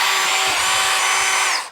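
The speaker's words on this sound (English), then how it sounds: "and I'm gonna pretend to drill this." Power drill whirring steadily at high speed for nearly two seconds, loud and close, spinning down at the end; demonstrated while installing a 48A EV charger against a wall.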